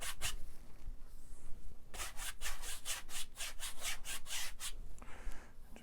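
A paintbrush loaded with Prussian blue oil paint scrubs crisscross strokes across a canvas, giving a rapid series of about a dozen dry, rasping brushes in quick rhythm, close and clear with no talking.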